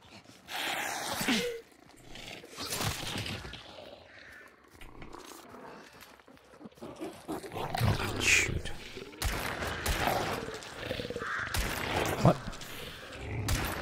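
Gunfire in the video game Hunt: Showdown, with scattered sharp shots cracking out, some close and some farther away, amid rough ambient noise and an occasional voice.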